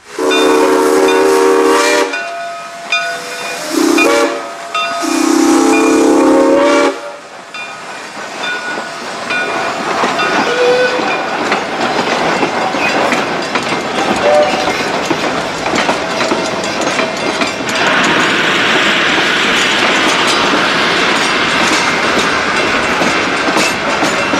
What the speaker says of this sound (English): we see engines 6 and 9 as they continue to pull their trains across the Midwest Central